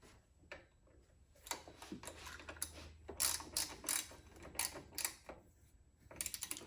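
A 14 mm bolt on a 2005-2009 Subaru Legacy power steering pump is snugged up with a ratchet, giving quiet rapid clicking bursts of the pawl at close range, with no talking.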